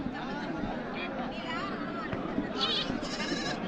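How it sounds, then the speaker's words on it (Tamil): Goats and sheep bleating at the Mecheri goat market near Salem, scattered calls over a crowded babble of people talking nearby. "செம்மறி குட்டி வெள்ளாடு எல்லாம் கலந்து வந்திருக்கு."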